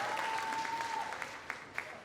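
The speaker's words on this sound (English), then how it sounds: "Come on, everybody, clap" A synagogue congregation applauds during a Rosh Hashanah morning service at Temple Sinai in Palm Desert, a steady wash of many hands clapping that thins out into a few scattered claps.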